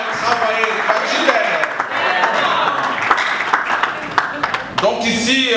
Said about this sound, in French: il mérite, n'est-ce pas, d'être acclamé, d'être applaudi ici dans la salle